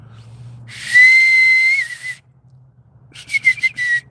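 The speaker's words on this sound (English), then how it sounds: "that's enough whistling tutorial" A person whistles through their fingers: one long, loud, steady shrill note that bends slightly at the end, a pause, then a run of several short chirping bursts.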